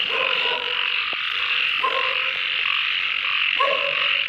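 A chorus of frogs croaks around the listener at night, steady and loud, with repeated short croaks rising over a dense continuous trill.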